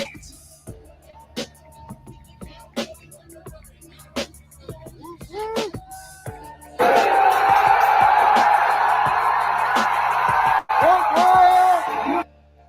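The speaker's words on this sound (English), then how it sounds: "Yeah, that crowd went crazy for him." A crowd cheering and roaring at a wrestling event, a loud sustained swell of yells and cheers breaking out midway after scattered shouts and talk, then cutting off abruptly.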